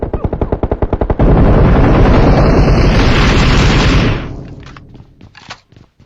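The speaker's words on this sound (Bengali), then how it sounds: "ওইটা গ্রেনেড দিচ্ছি" Rapid gunfire in a shooting video game gives way to a long, loud, roaring grenade blast lasting several seconds that fades into scattered shots and distant rumble, with no talk.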